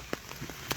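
Rain falls outdoors during a walk, a soft steady patter with a few sharper drops tapping close by, no talking.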